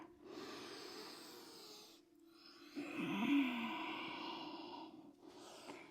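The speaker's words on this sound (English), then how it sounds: "Exhale. Fall forward." A long audible breath out during a forward fold in a strength yoga session with hip opening, heard alone and close, ending in a soft sigh-like release after a brief pause.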